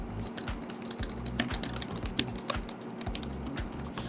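Quick, continuous clicking of keys being typed on a Gujodok keyboard with fairly deep key travel, close up, with an irregular rhythm and no talking.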